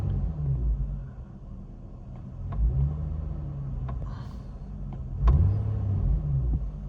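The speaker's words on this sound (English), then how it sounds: "Give it a bit of revs to see that the idle is good." Infiniti G35 engine after a throttle body replacement, settling at a low idle rumble with a few brief blips of revving, heard close up with no talking.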